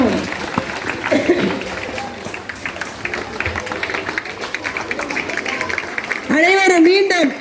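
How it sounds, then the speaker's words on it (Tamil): An audience claps at a primary school sports day, a dense patter of applause from a crowd, while a loud amplified announcer's voice talks over it, strongest near the end. "அனைவரும் மீண்டும் உற்சாகமாக கைதட்டுவோம்"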